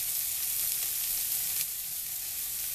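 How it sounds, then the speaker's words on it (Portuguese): Onion sautéing with garlic in a pan, giving an even, gentle sizzle throughout with no talking. "vamos deixar a cebola refogando aqui junto ao alho"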